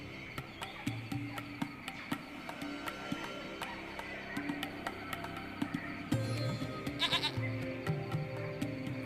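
Goat bleating in the video game Lost Horizon, a few short bleats standing out over a busy game soundscape of music and ambient creature chirps.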